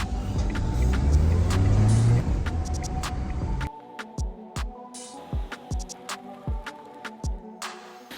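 A very clean salvage car's engine running with no knocking, first a loud, steady rumble that then drops away into a series of lighter, evenly spaced pulsing throbs.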